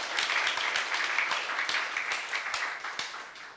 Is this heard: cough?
no